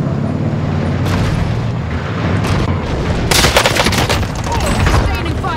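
Heavy sustained gunfire and booming blasts from a chaotic battle in a shooter video game, continuous and loud, with shouted voices mixed into the din.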